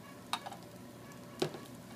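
Cheese omelet cooking in a pan over a flame, a low constant sizzle broken by two brief clinks of a utensil against the pan.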